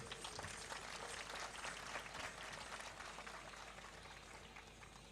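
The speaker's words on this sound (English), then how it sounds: "Let's have another huge round of applause for the girls" A large audience at a school's 75th anniversary celebration keeps up a dense, steady wash of clapping for a group of girls, heard from some distance over low background hum.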